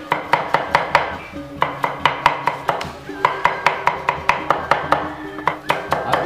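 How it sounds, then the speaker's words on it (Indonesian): Chili peppers being chopped on a board for Balinese lawar, rapid rhythmic knife strikes in quick bursts, loud and close with no talking. "Sekarang pedas lomboknya guys, kita juga cincang."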